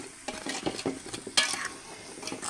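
Fried gormiti snacks are stirred through thick sugar syrup, giving sticky scraping and clacking spoon strokes in an irregular rhythm, close and moderately loud with a sharp clatter midway.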